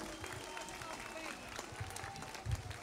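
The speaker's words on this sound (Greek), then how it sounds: "Ένα χειροκρότημα." An audience applauds at a mock royal funeral during the 2023 Ano Stavros carnival in Greece. The clapping is steady and diffuse, with low thumps and murmuring voices mixed in.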